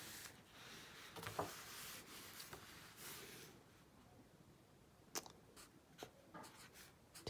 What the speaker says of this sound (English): on the inside, I'll write something like,